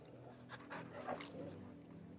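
A dog in the Final Fantasy 16 video game pants steadily while being petted, with soft whimpery breaths and faint game ambience underneath, close and fairly quiet throughout.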